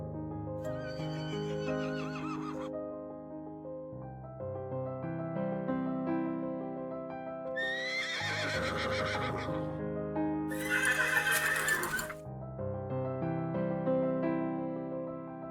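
A horse neighs and whinnies during an emotional reunion with its owner, with loud, drawn-out calls rising and falling over a steady background, including bright, shrill bursts near the middle.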